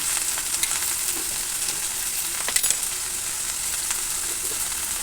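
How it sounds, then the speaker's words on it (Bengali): Slices of pointed gourd (potol) fry in a pan of oil, a continuous close hiss and crackle with occasional louder pops and light stirring, no voices. "এবার আমি পটলগুলো ভেজে নেব পটলগুলো দিয়ে দিলাম"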